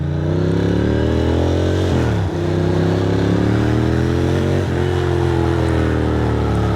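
A motorcycle engine runs loud and close while riding, pitch climbing steadily through gears with two audible drops where it shifts near two and five seconds, no talking over it.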